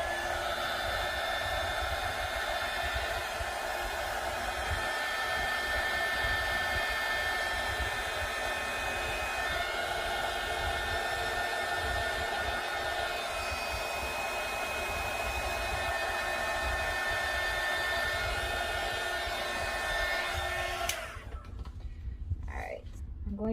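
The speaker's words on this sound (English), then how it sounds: "I'm gonna dry it with my heat gun" A heat gun blows steadily to dry a thrifted vintage wooden rolling pin, a loud continuous whooshing roar that runs unbroken for about twenty seconds, then cuts off abruptly near the end.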